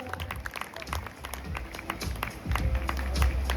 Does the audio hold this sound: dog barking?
no